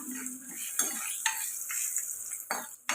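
Cooked rice and chopped green chilies stirred in a hot frying pan for lemon pulihora, steady close sizzle broken by a few sharp scrapes and clinks of the spoon, no talking.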